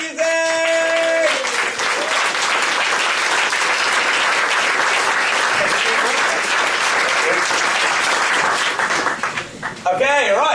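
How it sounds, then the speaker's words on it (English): A large audience applauding together in a hall, loud, dense clapping that swells right after a brief tonal intro and keeps going steadily for several seconds before thinning out near the end. "So please everyone stand up and give a huge round of applause"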